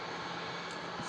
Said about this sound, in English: just like that plane that just took off